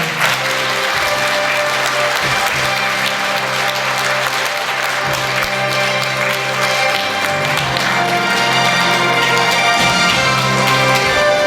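An audience at a Khakas song award ceremony applauds loudly and continuously, dense clapping over steady sustained music tones.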